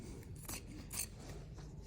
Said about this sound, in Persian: اندازه 2 تا 3 سانتشو قیچی میکنم